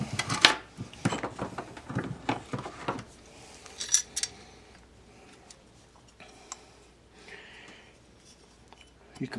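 A Duke 1 3/4 steel trap being set by hand, with sharp metallic clicks and clanks of springs and jaws clustered early, then sparser small ticks and rattles, fairly close and alone.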